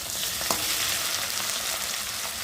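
Onion paste and tomato frying in a pan as the base for a fish curry, giving a dense, steady close sizzle with a faint stirring knock early on and no talking.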